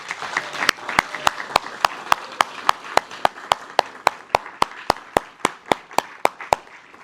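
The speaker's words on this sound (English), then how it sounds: "I'd like to take a moment for us to recognize and applaud Judge John Kelleher." An audience applauds Judge John Kelleher at a National Law Day event, a steady wash of many hands clapping with sharp, regularly spaced accent claps standing out over the crowd throughout.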